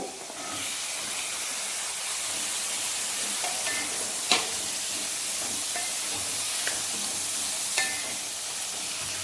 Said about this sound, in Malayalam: തക്കാളി ഇട്ട് ഒന്ന് ഇളക്കി ഇനി ക്യാരറ്റ് ഇട്ട് കൊടുക്കുക